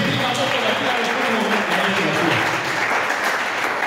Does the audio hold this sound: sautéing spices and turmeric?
no